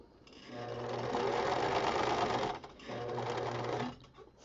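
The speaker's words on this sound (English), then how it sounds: "I'm going to continue sewing 1/4 inch away from the raw edge until I get to my marked line" Sewing machine stitching quilt binding a quarter inch from the raw edge. Two close, steady runs of fast mechanical stitching are split by a brief pause, and the hum stops abruptly at the end.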